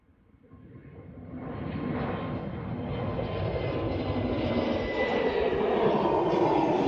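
A Lufthansa jet takes off at Amsterdam Schiphol, its engine roar swelling from a quiet start into a loud, broad, sustained rumble that keeps building steadily to the end, with no talk.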